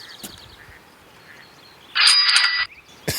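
A cinema camera shutter set to a cash-register sound fires a single bright, jangling ka-ching burst lasting under a second. Faint clicks come before it and a sharp click follows, against a quiet room.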